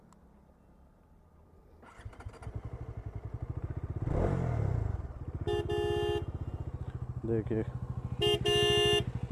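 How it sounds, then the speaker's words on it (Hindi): An aftermarket extra horn replacing the stock horn on a modified Dominar 400 motorcycle blares in two loud bursts over the bike's idling engine, with a brief spoken word near the start. "और एक और चीज़ मैंने इसमें लगा दिए हैं एक्स्ट्रा हॉर्न।"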